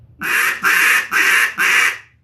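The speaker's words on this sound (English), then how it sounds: "So the first thing to do is learn how to run a call with it open." Four loud, even quacks from a Duck Lander duck call blown with an open throat, each about half a second long and evenly spaced, close and alone with no talk.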